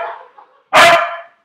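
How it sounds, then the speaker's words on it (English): A pet dog indoors lets out a single loud, sharp bark close by, after a faint whine or murmur in an otherwise quiet room. "And I'm sorry about the background noise of my dog."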